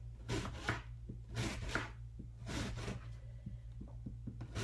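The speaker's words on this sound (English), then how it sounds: "Now, I'm going to take the second half, slice it." A snack sliced in half on a board, three quick bursts of knife cutting spaced about a second apart, followed by a few soft taps, close and fairly quiet.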